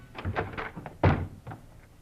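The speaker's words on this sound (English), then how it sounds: "in a quick movement, they rushed the door to Frank Hadley." A radio drama sound effect of a door being rushed: a series of heavy wooden thunks and knocks, the biggest crash near the middle, close and loud without speech over it.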